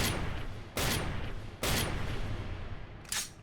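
Gunfire from Devil May Cry 3, a character emptying a full clip: loud broadband shots in several dense bursts, with sustained rattling between them and a final burst near the end, no talk.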